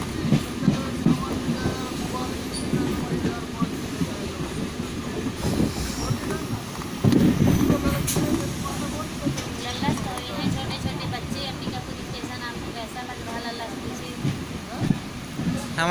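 Steady rumble and rattle of a MEMU passenger train running between Ambikapur and Kamalpur, with wheel clatter, occasional squeals and a few louder jolts throughout, heard from inside the coach.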